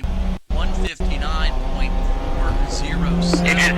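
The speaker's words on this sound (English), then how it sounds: "Engine start, pit lane's clear." A Lola race car with a JFC V8 engine revs loudly in the pit lane during qualifying at the NASA 25 Hours of Thunderhill, a sustained engine roar with two brief cutoffs and mechanical whine, under announcer speech.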